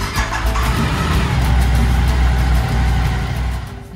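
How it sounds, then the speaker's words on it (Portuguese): A motorcycle engine, just repaired at the roadside during a tour of Morocco's Middle Atlas, runs steadily at a low, rumbling idle, close and loud, with slight surges and no talking. "Moto funcionando"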